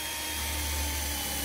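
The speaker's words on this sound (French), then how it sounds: "je vais faire un trou un peu plus proche de là où je vais découper" Power drill boring a hole through the sheet metal of a converted van, a loud, steady whining drone running continuously and close, with no voices.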